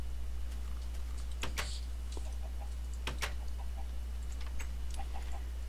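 Minecraft chickens give a few short, sharp clucks spaced irregularly over a constant low hum, fairly faint and without speech.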